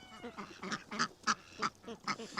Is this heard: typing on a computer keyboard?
no